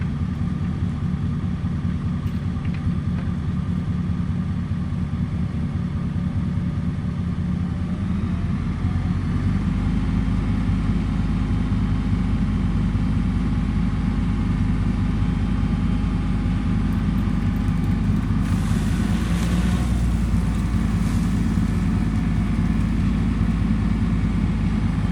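Low, steady rumble of a tractor engine straining as it drags a fallen tree limb on a chain after an ice storm, the tone deepening and growing slightly louder partway through, with no talk.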